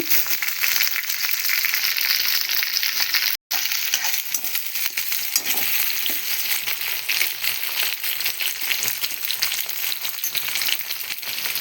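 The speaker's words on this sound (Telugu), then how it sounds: "మునక్కాయలు అయితే కొంచెం ఫ్రై అయిపోయినాయి" Drumsticks and curry leaves frying in a pan, a dense, fairly loud sizzle with crackling spatter and a few metallic clinks, broken by one brief dropout, no speech.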